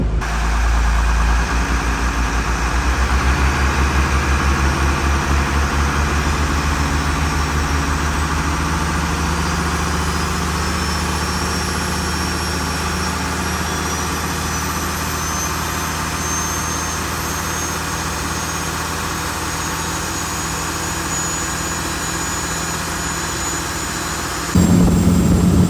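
Twin Ford turbo Dorset engines on a 1980s UK powerboat with a cracked engine block run at a steady, loud, low drone during a sea trial, one engine down on power, ending with a brief louder surge, no talk.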